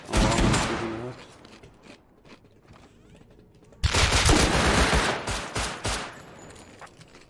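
Gunfire from a video game shooter on an oil rig map, bursts of rapid automatic shots, loud and close, a dense volley opening, then a quieter stretch before heavy firing resumes.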